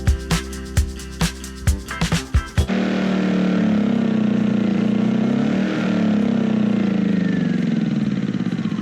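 A generator engine is left running to drain its carburetor. It opens with a few rhythmic chugging pulses, then settles into a loud, steady, close drone that holds to the end.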